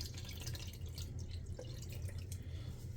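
Photographic fixer poured from a graduated cylinder into a film developing tank gives a faint, steady liquid trickle with small drips, close by and without talk.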